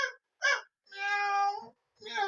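A cartoonish Minecraft cat meows repeatedly in short bursts, then one longer drawn-out meow, clear and close with brief silences between.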